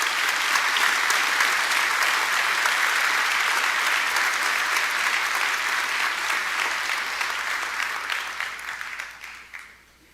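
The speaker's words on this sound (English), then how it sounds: "round of applause for these 2 individuals." Sustained applause from a seated audience at a fire recruit class graduation ceremony, steady dense clapping for several seconds that thins and fades out at the end.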